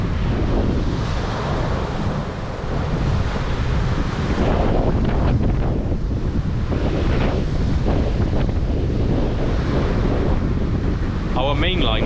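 A bitter north-easterly wind roars and buffets the microphone on the Cardiff foreshore, with waves washing in underneath, a loud continuous rush throughout.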